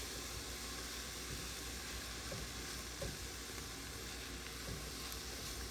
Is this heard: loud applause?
no